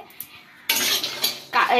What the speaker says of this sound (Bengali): আমি কাজু বাদাম আর কাঠবাদামটা এখানে ভেজে নিচ্ছি